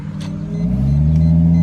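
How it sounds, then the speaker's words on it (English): A Lexus IS300 inline-six engine idles with a deep rumble, then its pitch climbs smoothly as it revs up, loud and close. "if you don't like the way this Lexus IS300 sound, this inline 6 and the V6 sound"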